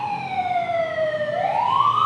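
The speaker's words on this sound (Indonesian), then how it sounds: "tahan, ada ambulan lewat" Ambulance siren passing by on a road, a steady wailing tone that drops in pitch and then rises again, loud and close, with no talk over it.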